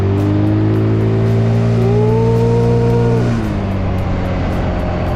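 Carbureted 2012 Honda Beat 110 automatic scooter engine revved hard, a loud close whine that climbs in pitch over about three seconds, then drops sharply and settles to a lower drone.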